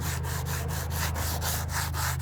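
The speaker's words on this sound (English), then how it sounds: "Then I'm gonna take some 150 grit sandpaper and sand this down." Hand sanding paint off a wooden exterior window sill with 150 grit sandpaper, a close, steady rasping scrape in quick regular back-and-forth strokes, about ten in two seconds, with no talking.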